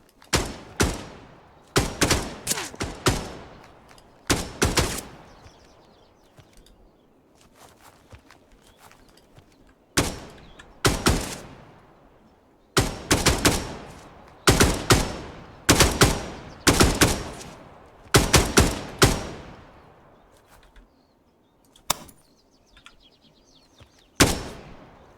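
Gunfire in the video game Dagger Directive: loud, sharp bursts of automatic shots in rapid volleys, separated by brief quiet gaps, repeating steadily across the whole stretch.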